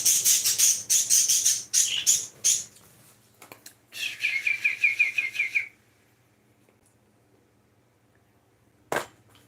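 Birds chirp in quick bright bursts, a rapid series of tweets followed by a run of repeated whistled calls, then quiet with a single sharp click near the end; no talk.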